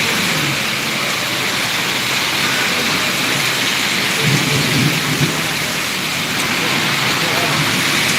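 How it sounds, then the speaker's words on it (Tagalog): Heavy rain pours down steadily in a dense, constant hiss in Kuwait, with low thunder rumbling underneath throughout. "Malakas ang ulan dito."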